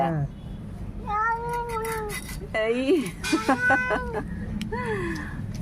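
A cat meows several times close by at a fish market, with rising and falling cries over a steady backdrop of crowd noise and voices.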